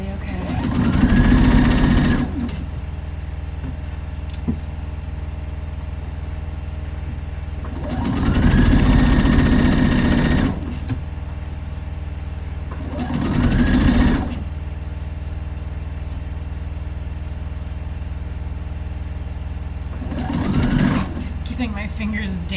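A sewing machine stitches a fabric top at a sewing workshop, running in three loud bursts of a few seconds each with a shorter fourth near the end, quiet pauses between.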